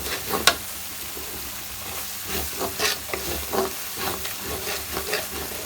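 A spoon stirs turmeric-spiced masala frying in a cooking pot, producing rhythmic scraping strokes over a continuous sizzle, close and fairly loud.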